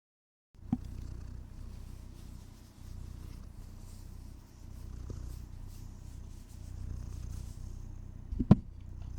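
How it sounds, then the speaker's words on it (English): A cat purrs close by, a low continuous rumble lasting several seconds, with a couple of faint clicks or taps and no talking. "Let's see if we can get some purring."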